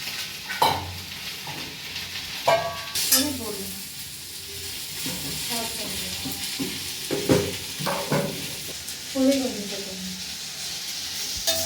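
Mint chutney ingredients with coriander sautéing in a pan, a steady soft sizzle broken by repeated spatula scrapes and stirring clatters, close and moderately quiet, with a voice talking faintly at times.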